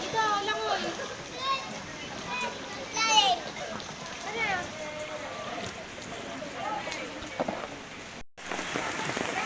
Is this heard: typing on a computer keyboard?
no